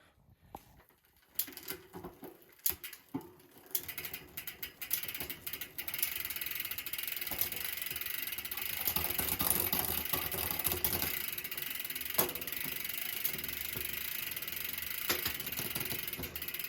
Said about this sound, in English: I'm gonna pedal it and we're gonna go through the gears.